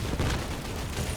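Burst of video game gunfire in a dense, rumbling volley, loud and continuous for about a second with no talk over it.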